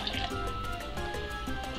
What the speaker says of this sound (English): go ahead and put your 1 cup of hot water